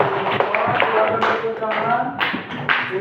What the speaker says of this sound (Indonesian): Semua silakan tepuk tangan untuk kelompok 3.